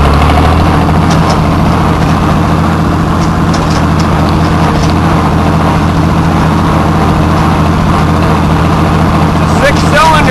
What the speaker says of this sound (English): It's a six-cylinder Continental engine that powers this.